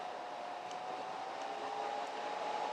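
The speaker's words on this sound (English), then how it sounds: "Now I have the fan on" Computer cooling fan spinning at about 2,000 RPM, a faint, steady airy whir with a soft tonal hum, continuous and unchanging, with no talking.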